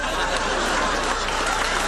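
A theater audience applauds the Golden Palace players after a living theater production of Come Back, Little Sheba, with dense, steady clapping filling the room and light laughter and chatter mixed in.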